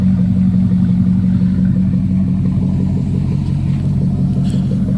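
A 2004 Chevrolet Suburban idles after a cold start, giving a steady, loud, deep engine rumble with a faint clattery texture. The sound stays even throughout with no revving and no voices.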